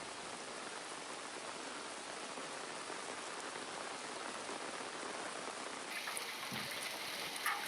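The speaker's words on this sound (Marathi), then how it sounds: "मुसळधार पाऊस कोसळला" Heavy afternoon rain pours steadily in Sindhudurg, Maharashtra, making a dense, continuous hiss of drops on surfaces that stays loud throughout, with no voices.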